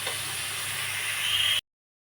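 Vegetables sauté in hot oil with salt, giving a steady, soft sizzling hiss that runs unbroken for about a second and a half before cutting off abruptly.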